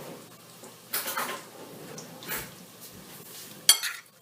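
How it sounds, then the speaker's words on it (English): Salad tossed in a bowl, heard as a few scattered clinks and soft scrapes of utensils against the dish, close and fairly quiet with pauses between. "So let's toss this up."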